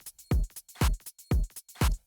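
A punchy drum machine pattern from factory kit samples: deep kick thumps alternating with crisp hi-hat ticks in a steady, quick groove, dry and up close.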